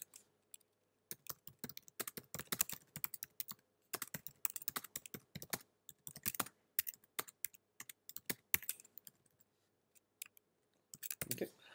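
Keystrokes clatter on a computer keyboard while Python code is written, coming in quick irregular bursts of clicks separated by short pauses, close and clear with no talking.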